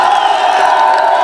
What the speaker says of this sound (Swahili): Jipigieni makofi bana.